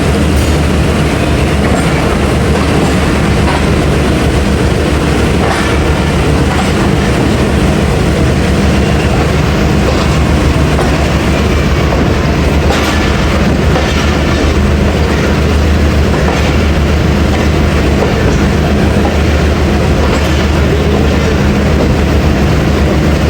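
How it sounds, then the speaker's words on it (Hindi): The 13 Up Awam Express passenger train runs on the rails near Wazirabad Junction with a loud, steady roar of wheels. Faint clickety-clack rhythms and an occasional squeal show through the continuous rumble, with no talk. "तो 11:35 पे डिपार्ट कर रही है 13 अब अवाम एक्सप्रेस"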